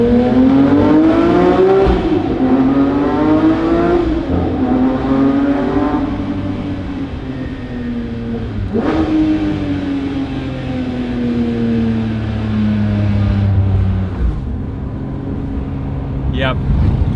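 A Porsche 992 S/T engine revving and shifting inside a long tunnel, loud and booming with echo, pitch climbing then dropping through several gear changes, with a voice talking over part of it.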